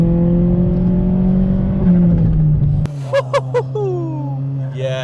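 A 2008 HSV VXR hot hatch with an aftermarket exhaust holds a steady engine note that drops off, then throws out a quick run of three or four sharp crackles and pops on the overrun, fairly close and loud.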